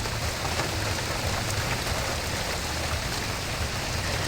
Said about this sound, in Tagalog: Parang bagyo naman kasi sa lakas ng ulan.